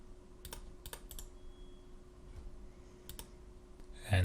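Quiet computer keyboard typing of a file path, a few sparse key clicks in small clusters with pauses between, ending in a louder click.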